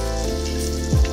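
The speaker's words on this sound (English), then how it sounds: "once you put the patty down, you do want it to sizzle" Steady hissing sizzle of a Beyond Burger plant-based patty frying in hot oil, close up and continuous, with a brief low thump near the end.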